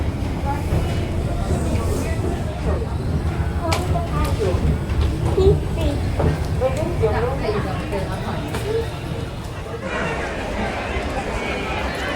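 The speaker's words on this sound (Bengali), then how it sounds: "দেখা যাক কত নম্বর প্ল্যাটফর্মে আসে বেলডাঙ্গা ট্রেন" A train pulls into the platform at Beldanga station with a low, continuous rumble and rattling wheels, heard under nearby crowd chatter and people talking.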